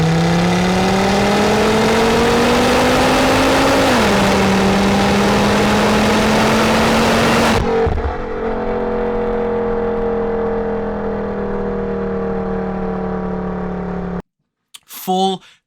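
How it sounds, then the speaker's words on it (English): A Volvo S60R with a full custom Eurosport exhaust and 3-inch downpipe revs loudly and close, rising and falling twice before settling into a steady idle burble that cuts off near the end. "I'll throw a clip on screen if I could find it here of the beautiful sound of the exhaust"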